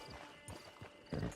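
Horse hooves clip-clop in Red Dead Online, a few soft, evenly paced steps close by under a steady bed of game ambience, with a heavier cluster of thuds near the end.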